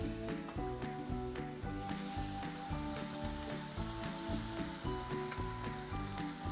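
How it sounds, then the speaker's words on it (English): Bacon crisping on a Kamado Joe Classic 2 ceramic grill gives a steady, loud, close sizzle and crackle that runs without a break and with no voices. "and then our bacon. Let that crisp up a little bit."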